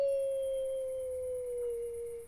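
A man imitates a wolf with a single long howl, a pure, steady tone that drifts slightly lower in pitch and fades out at the end, alone with no talk.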